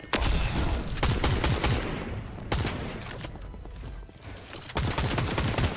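Fortnite gunfire, with dense rapid volleys of close shots crackling in repeated bursts, separated by brief lulls, loud and continuous across the stretch.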